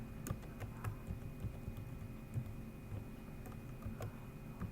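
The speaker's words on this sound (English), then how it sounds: "Now I can type this into my browser." Keys clatter on a computer keyboard as a URL is typed, a steady patter of quiet clicks with a low hum underneath.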